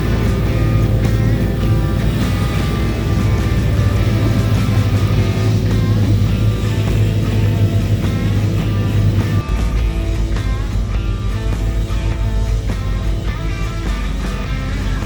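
Steady low engine drone and rumble aboard a vehicle ferry carrying semi-trailers, caravans and cars, continuous and fairly loud throughout with a slight shift midway.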